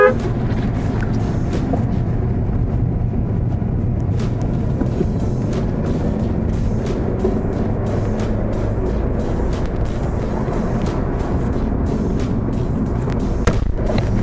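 A Mercedes-Benz C200 on a test drive gives a steady, loud rumble of engine and road noise, with scattered clicks and ticks throughout and no talking.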